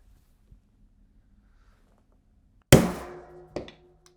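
A mallet strikes a 3/8 inch punch to set a LOXX fastener: after near silence come two sharp, close knocks, the first loud and ringing briefly, the second lighter about a second later.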